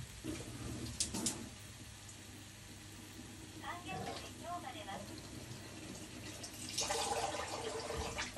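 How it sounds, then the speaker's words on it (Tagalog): Water pours into a cooking pot of koya-dofu ankake, a faint splashing trickle with a few clinks and a slightly louder rush near the end, at modest volume. "Then, mag-add tayo ng water."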